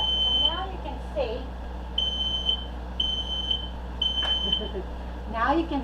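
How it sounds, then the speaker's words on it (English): Kitchen smoke alarm shrieking during tomatillo roasting, piercing beeps repeating in regular short bursts over a constant low hum, with voices talking through and between the beeps. "Did you turn the smoke alarm off?"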